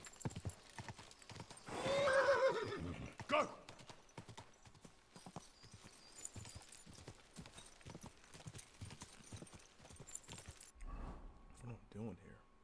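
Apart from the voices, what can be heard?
horse hooves galloping in video game Iron and Blood 3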